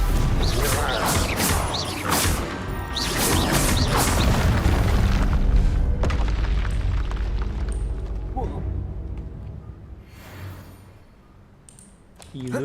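A Stupefy spell cast in Hogwarts Legacy, heard as loud booming, crashing magical blasts with whooshes, a dense burst of game combat effects that fades toward the end, with a voice calling out over it.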